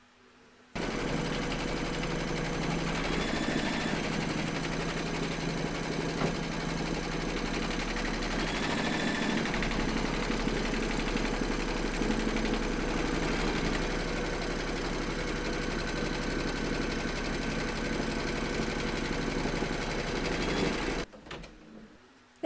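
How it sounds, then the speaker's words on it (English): An embroidery machine stitches a quilting round on a hooped glasses case, a steady close mechanical whirr with rapid needle pulsing running unbroken for about twenty seconds before stopping. "Pop your hoop into your machine and stitch round number 3"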